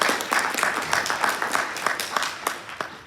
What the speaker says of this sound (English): So, round of applause for my mom,